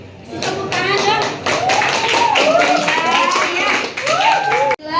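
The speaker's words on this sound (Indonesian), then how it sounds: "Tepuk tangan dong." Classroom students clapping after a group presentation, steady overlapping claps with children's voices and chatter mixed in throughout.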